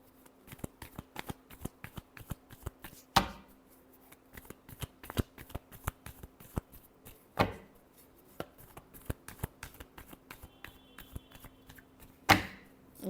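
A deck of tarot cards is shuffled by hand in a quiet room, giving a long run of quick, crisp paper clicks and flutters, broken by three sharper snaps as the cards are riffled, with no one talking.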